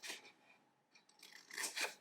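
Cardboard box lid being cut by hand, faint and close, with a few short scraping, snipping strokes followed by a longer rasping cut.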